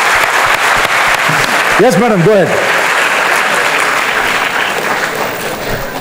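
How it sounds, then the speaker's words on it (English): Audience applause in a hall, steady broadband clapping throughout, with a brief talking voice and harmonic vocal sound partway through, then the clapping thinning toward the end. "you need one more round of applause for that"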